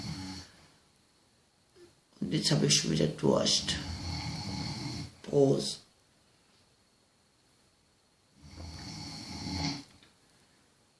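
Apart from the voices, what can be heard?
man snoring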